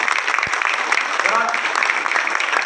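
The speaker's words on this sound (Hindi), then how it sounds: "भगवान श्री जी के लिए एक जोरदार तालियां" Audience applause at a training session in Jaipur: dense, continuous clapping from a crowd, loud and sustained, with a faint voice briefly rising within it.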